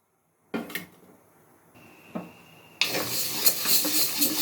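Ingredients dry-roasting in a pan on a stove, with a few metallic clatters and scrapes followed by a loud, steady hiss of frying close by.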